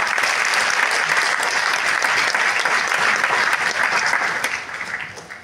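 Sustained, dense audience applause at an indoor motivational business event, loud and steady throughout before tapering off near the end, with no talk over it.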